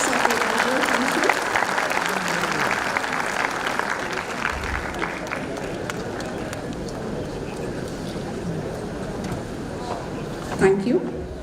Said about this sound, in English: So we can give a huge round of applause for the souvenir release and the success of the inaugural function.